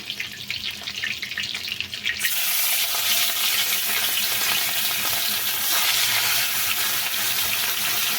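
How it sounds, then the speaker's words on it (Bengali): Pointed gourd fries crisp in hot oil in a home kitchen, a softer crackle swelling abruptly into a loud, continuous close-up sizzle that carries on steadily without any speech. "এদিকে পটল ভাজাটা বসিয়ে দিয়েছি একটু কড়া করে পটলটা ভাজা করে নেব"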